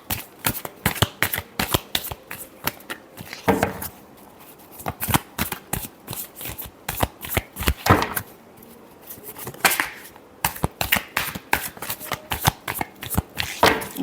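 Tarot cards being shuffled by hand, rapid bursts of crisp riffling and slapping close to the microphone, repeating in uneven groups with short pauses, no speech.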